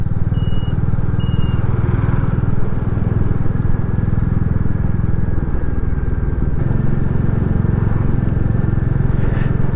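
A Royal Enfield Classic 350 motorcycle ridden along a winding country road through the Hope Valley, giving a continuous, steady low engine drone mixed with wind rush, with no pauses.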